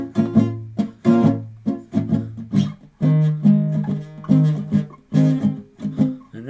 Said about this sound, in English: when you're new and you're just, kind of getting up to speed a little bit, the bar chords are going to sound like this